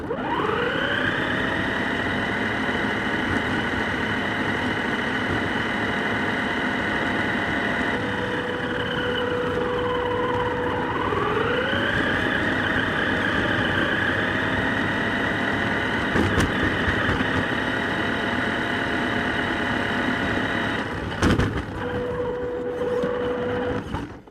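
A Double E E101 Defender 1/8-scale RC crawler driving in its fast gear, giving a steady electric motor whine that rises and dips in pitch as it moves, close and continuous with no talk.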